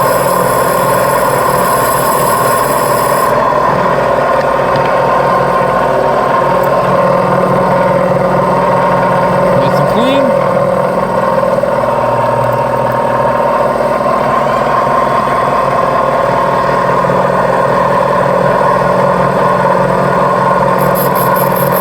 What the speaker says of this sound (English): now I got the valves in my Sioux valve grinder